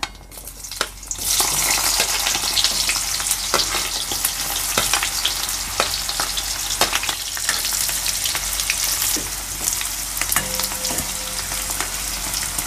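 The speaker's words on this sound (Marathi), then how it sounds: "जिरे आणि मोहरी तडतडलेले आहेत। यामध्ये कांदा" Onion frying in hot oil with crackling cumin and mustard seeds for Maharashtrian baingan bharta, a steady loud sizzle with stirring scrapes throughout and no talk.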